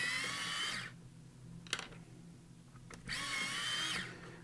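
An Eye Point Evolution electric pencil sharpener grinds colored pencils in two short whirring bursts with a quiet gap between them, close and fairly loud with no talk.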